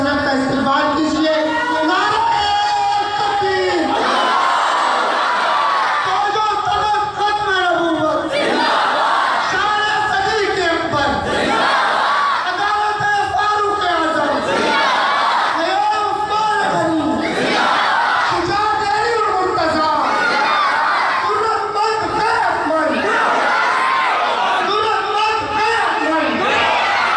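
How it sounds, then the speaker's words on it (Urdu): A mosque crowd chants religious slogans in unison to welcome a speaker, a loud call-and-response with a leader's shouted line answered by many voices, repeating in regular waves every few seconds, close and energetic throughout. "حضرت کے آمد سے پہلے نعرے سے حضرت کا استقبال کیجیے"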